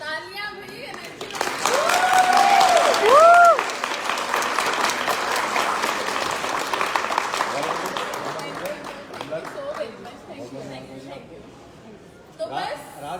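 An audience applauds at an event, with sustained clapping under crowd voices and whoops near the start, fading gradually before a voice speaks at the end.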